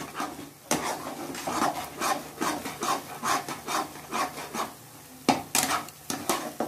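A spoon stirs green peas with turmeric in a pan for a matar kachori filling. It makes steady rhythmic scraping and rubbing strokes against the pan, close and fairly loud, with no talking.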